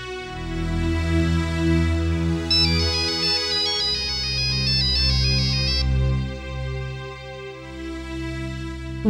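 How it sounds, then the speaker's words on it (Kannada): A mobile phone ringtone plays a bright, repeating electronic melody for about nine seconds, loud and steady, with a denser high run of notes in the middle and no voices over it. "ಅಷ್ಟೊತ್ತಿಂದ ಫೋನ್ ಟ್ರೈ ಮಾಡ್ತಿದ್ದೀನಿ, ಯಾಕಮ್ಮ ರಿಸೀವ್ ಮಾಡ್ತಿಲ್ಲ?"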